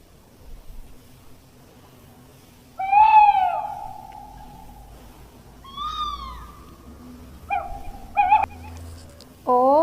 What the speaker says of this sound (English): O for owl.